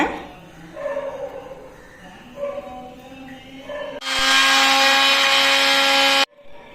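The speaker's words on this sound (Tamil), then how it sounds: "இப்போ முதல்ல கட் பண்ணி வச்சிருந்த வாழைப்பழத்தை போட்டு அரைச்சிட்டுலாங்க" A mixer grinder grinds cut banana pieces, starting abruptly partway through as a loud, steady, high whirring roar that runs for about two seconds and then cuts off sharply; quieter kitchen sounds come before it.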